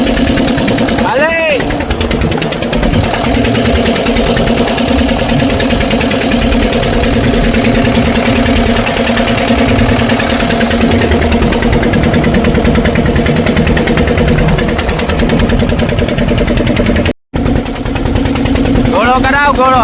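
The engine of a small fishing boat runs hard during a race on the water, a loud, close, steady chugging drone that lasts nearly the whole time. It drops out for a moment near the end while people talk over it.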